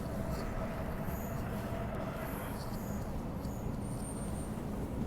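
A Transperth MAN B-series electric train runs on a journey from Aubin Grove toward Rockingham, giving a steady quiet interior rumble of wheels on rail with faint high whines and squeals over it.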